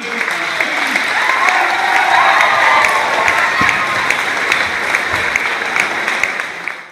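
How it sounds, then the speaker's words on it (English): A large crowd applauds graduating high school students in a dense, loud, continuous round of clapping with some cheering mixed in, steady for the whole stretch. "join us in a huge round of applause for the graduates of Hawick High School 2015"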